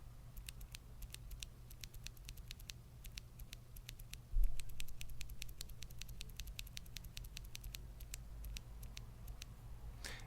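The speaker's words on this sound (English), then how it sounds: "So standard press test." Keys on a keyboard with Hako Violet switches pressed one after another in quick, irregular succession, a stream of faint, close, light clicks with no talking.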